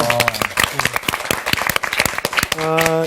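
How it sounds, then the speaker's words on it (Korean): Audience applause in a Bible lecture class, brisk clapping of a modest group with voices talking over it. "박수 한번 하십시오"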